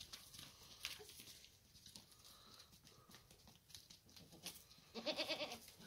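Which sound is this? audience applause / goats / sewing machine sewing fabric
goats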